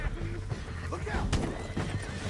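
A horse whinnies in a chaotic Red Dead Redemption 2 gunfight scene, with hoofbeats and clatter amid shouting voices and gunfire.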